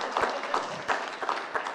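Audience applause at a community safety town hall held in a church, a dense patter of clapping with a few sharper claps, fairly even and sustained at moderate level.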